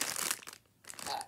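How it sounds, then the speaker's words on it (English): Plastic packaging of a Stamperia craft die cut set crinkles close to the microphone in two bursts of sharp rustling separated by a short lull. "Sorry for the crinkling"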